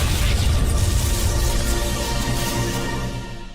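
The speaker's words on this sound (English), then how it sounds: "Explosion." Explosion in an animated Glitchtale fight, a loud, deep rumbling blast that starts at full force and slowly fades over a few seconds.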